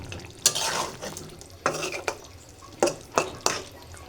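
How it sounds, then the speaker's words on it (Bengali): Meat curry stirred in a cooking pot, a low simmering sizzle punctuated by about five distinct scraping knocks of a spoon against the metal. "এখন হালকা একটু নেড়ে নামিয়ে নেব"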